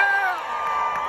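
A crowd on the front lawn of Graceland in Memphis cheers and whoops at an Elvis Presley birthday gathering, a loud sustained mass of voices with high shouts carrying over it.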